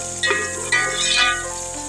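Onions browning in a pan of masala for aloo gosht give a loud, steady sizzle with a brief rise in intensity, close up, with no voices over it.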